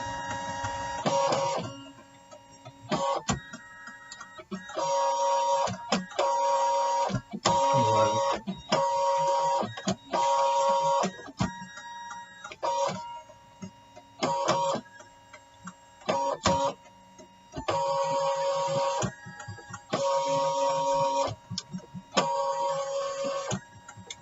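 An electronic cutting machine works at slow speed and light pressure to emboss and score paper, giving a close series of rhythmic mechanical whirring motor bursts separated by short pauses.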